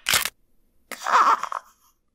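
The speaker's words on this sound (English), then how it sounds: "You hear beep, followed by a bone-chillingly loud crunch." A short sharp beep-like burst is followed by a loud, close bone crunch sound effect, a brief cracking squelch that fades quickly into silence.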